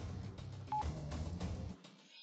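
A phone's dialing tone sounds once, short and steady, over a dense background of low rumble and noise in a dramatic scene, then the background cuts out.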